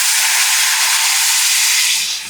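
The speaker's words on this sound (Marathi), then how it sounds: "फोडणीत असं गरम पाणी टाकलं" Hot water poured into a hot spice tempering for amti (sweet-sour dal), giving a loud, steady broadband hiss and sizzle that fills the whole stretch alone and eases off slightly at the end.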